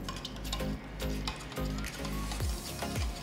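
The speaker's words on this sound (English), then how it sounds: "Just add a little bit of milk and whisk this nicely so that it's nicely blended" A whisk clinks and swishes steadily as curd is blended with milk in a vessel, soft repeated taps and scraping strokes close by.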